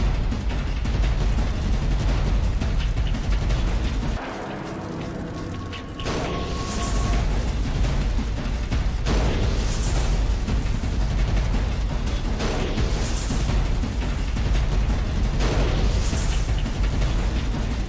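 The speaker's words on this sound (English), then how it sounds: "The Blazer was lifted up to 35 feet in the air before sliding off to meet the tank" A Chevrolet Blazer is dropped from 35 feet onto a tank in a crash test, a loud sustained crashing and crunching din with a brief quieter gap before repeated metallic bangs and rattles continue.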